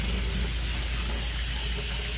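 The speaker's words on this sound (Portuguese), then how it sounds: "agora vou lavar minhas mãos" Running water pours steadily over hands being washed at a farmhouse kitchen sink, a continuous close rushing wash with no talk.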